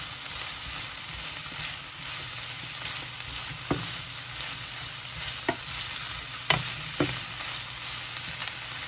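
Onion and bell pepper fry in a pan with a steady, close sizzle, broken by a few sharp scraping stirs near the end; no one speaks.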